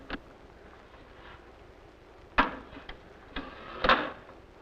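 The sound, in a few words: toy blocks being put away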